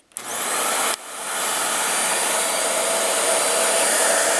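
A Bissell Pet Hair Eraser 1650 vacuum runs with its brush roll switched off, a steady broadband whoosh that starts with a click, briefly dips, then settles into a constant loud drone.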